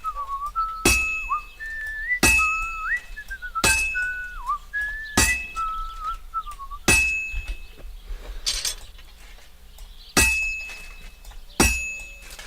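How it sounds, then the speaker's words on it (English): A character whistles a wavering tune in bursts between sharp, ringing hammer strikes on a blacksmith's forge in Kingdom Come: Deliverance 2, with metallic clinks recurring every second or so and the whistling dropping out in the latter half. "And if you're doing really good, he'll whistle with you."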